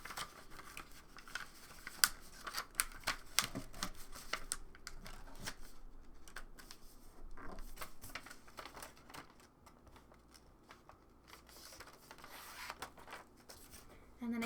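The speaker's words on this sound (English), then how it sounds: "We're going to fold on that dark blue line." Printed paper being folded along lines, quiet close creasing, crinkling and tapping in irregular bursts that fade toward the end.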